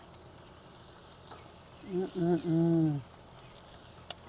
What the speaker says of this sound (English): let's get our asparagus put on the grill. Already moved the steaks over.